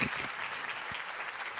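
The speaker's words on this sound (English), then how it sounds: "give this man an applause" Short burst of applause from a small group, steady broadband clapping at moderate level, heard alone without talk.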